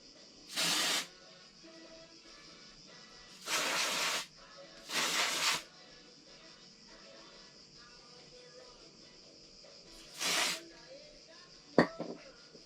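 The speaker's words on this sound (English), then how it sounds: "So on rubber parts, I use W40 silicone, and on metal parts, just regular W40" WD-40 silicone spray hisses onto rubber parts of a BMW R1200GS motorcycle during service, in four short bursts of about half a second to a second each, separated by quiet gaps, with a sharp click near the end.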